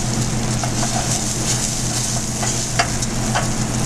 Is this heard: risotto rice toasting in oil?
yes